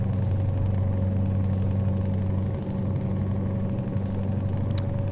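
A modded truck engine in Euro Truck Simulator 2 with ProMods drones steadily and loudly at idle, a low rumbling hum that holds constant throughout without any talking.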